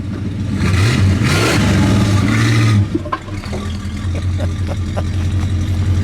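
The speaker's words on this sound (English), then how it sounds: "Go ahead, Randy, give it a rev." A 1961 DeSoto's engine revs up loud and close, holding a roaring surge for a few seconds before dropping back to a steady rumbling idle.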